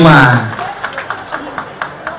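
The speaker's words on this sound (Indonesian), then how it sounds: "Tepuk tangan dong semua untuk warga Pesona Kauripan 5." A crowd at a mass housing-loan signing event briefly claps for the residents. A few scattered, sparse claps follow the tail of a speaking voice.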